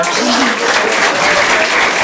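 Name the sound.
audience clapping at stand-up comedy show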